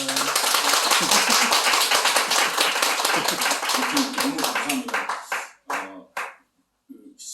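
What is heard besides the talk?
audience clapping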